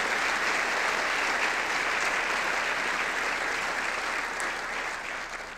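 An audience at a 2019 State of the City address in Columbus applauding, a dense sustained clapping from a large crowd that holds steady before slowly easing toward the end.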